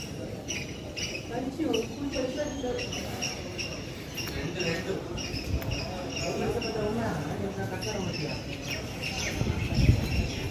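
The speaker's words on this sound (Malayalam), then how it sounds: "പിന്നെ കുറെ കിളികളുടെ സൗണ്ട്," Birds chirp in quick scattered tweets inside a granite temple in Thanjavur, a steady busy chorus echoing with faint background bustle and occasional speech.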